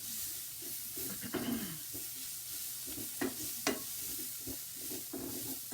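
Meat and onions fry together in a crowded pan for a tagine, a steady low sizzle with spatula stirring scrapes and a few sharper clacks against the pan, close and moderately quiet.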